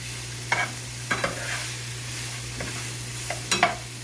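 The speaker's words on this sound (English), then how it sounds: "I'm going to let this saute for about 5-ish minutes" Food sizzles quietly in a pan under a steady low hum, with a few brief scraping stirs breaking through at irregular moments.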